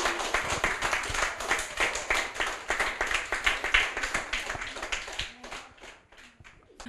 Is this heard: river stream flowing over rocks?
no